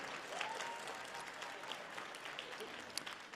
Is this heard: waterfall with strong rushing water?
no